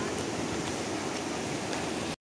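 A raging, swollen Ganga river surges by as a loud, unbroken roar of rushing water close at hand, cutting off abruptly at the end.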